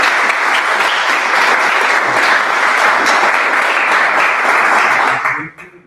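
Audience at a university event applauding loudly and steadily, a dense sustained clapping that carries on for several seconds before fading out abruptly.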